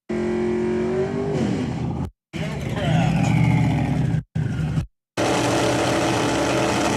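A no-prep drag racing car roars loudly in crash footage, its engine noise cut abruptly by several brief silences between edited segments, with voices talking over parts of it.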